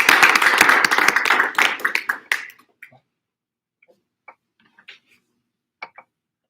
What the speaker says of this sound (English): Y'all just give them a round of applause again.